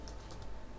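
Computer keyboard keys are tapped in a short, quiet run of clicks on a Windows 10 PC.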